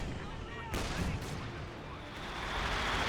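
Gunfire as Conscript infantry trade shots with Panzer Grenadiers in a Company of Heroes match, a sharp burst followed by scattered shots and rumbling battle noise at moderate distance, with a commentator's voice faintly underneath.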